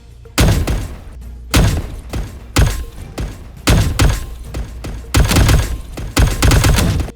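Robot weapons fire in the Age of Warbots game, loud heavy blasts with crunching, shattering impacts, about seven separate bursts at uneven intervals, each trailing off briefly before the next.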